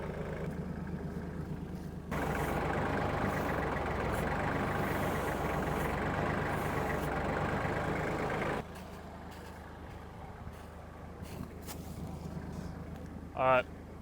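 A tractor engine rumbles as it moves a truck cab, its low drone rising noticeably for several seconds and then dropping back to a quieter idle, with a voice heard at times.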